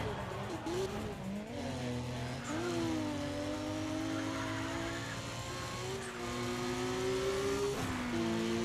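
Porsche race car engine in Need for Speed ProStreet, a sustained high-revving whine that climbs through the gears with brief drops at each shift, plus faint tire squeal as the car races on.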